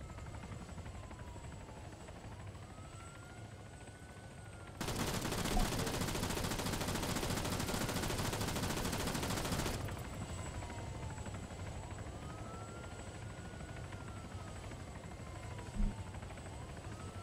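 Gunfire in the video game Arma 3 shows up as a dense, continuous burst of automatic fire that lasts about five seconds over a steady helicopter drone, with a single sharp shot later on.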